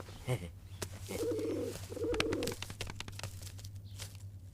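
A captured carrier pigeon, held in the hands, gives soft throaty coos and rustling wing flutters against a low steady hum, close and fairly quiet.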